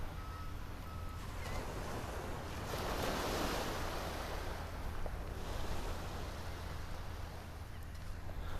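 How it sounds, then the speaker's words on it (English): Morning surf at Clearwater Beach, Florida, near Pier 60, heard as a steady wash of waves with wind noise and a faint brief beep early on. "Clearwater is a nice beach"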